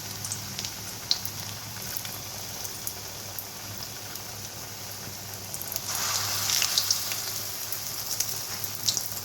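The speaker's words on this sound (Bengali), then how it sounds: "এবার এই চাল কুমড়োগুলো আমি ব্যাটারে ডুবিয়ে ডুবিয়ে ভেজে নেব।" Ash gourd slices dipped in batter frying in oil on a gas stove at low flame, a soft steady sizzle and crackle with scattered pops, growing somewhat louder partway through, no talk.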